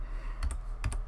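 Two quick keystroke clicks on a computer keyboard, close and crisp against quiet room noise, with no talking.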